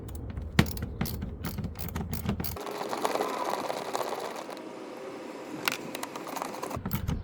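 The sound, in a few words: ratchet removing mud flap bolts on Toyota Highlander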